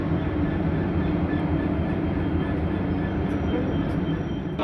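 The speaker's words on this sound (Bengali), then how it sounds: "ভালো ট্রেন।" A train sits at or moves through a station during a hill trip, making a steady low rumble and drone throughout, close and fairly loud, with faint distant noises above.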